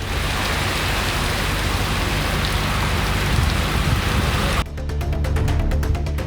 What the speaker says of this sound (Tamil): காற்றுடன் கூடிய கனமழை பெய்தது